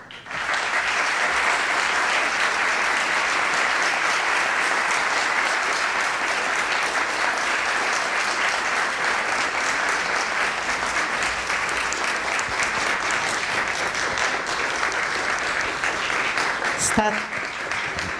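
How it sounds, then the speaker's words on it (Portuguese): A large crowd gives a standing ovation, applauding loudly and steadily, the clapping sustained without a break for the whole stretch. "Está sendo aplaudida de pé aqui"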